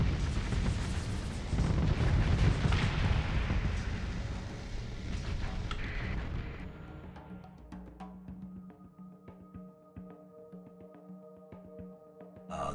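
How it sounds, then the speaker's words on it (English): A ship's main cannon fires in the space combat game Starsector: one heavy booming blast that rolls on and slowly fades over several seconds into a quieter mechanical hum. "Boom! Main cannon's fired."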